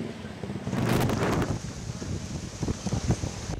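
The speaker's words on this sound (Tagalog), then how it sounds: "Kusog ang paghaguro sa hangin" Strong typhoon wind roaring along the coast of Northern Samar, a loud, steady gusting rush that swells and then keeps buffeting with rustling and flapping, no voices.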